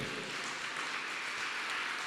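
A church congregation applauds at an evening service, a broad, even wash of clapping that stays steady and fairly loud for the whole stretch without audible speech.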